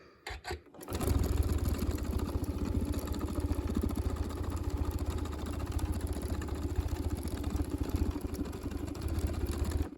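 A sewing machine stitches around letters on a T-shirt quilt, starting after a few brief clicks and then running as a steady, loud, rapid mechanical whir that continues to the end.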